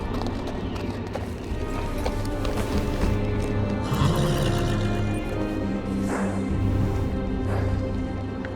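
A horse neighs loudly amid galloping hooves and clattering in the video game Game of Thrones, with a steady low hum underneath; the whinnies rise sharply near the end.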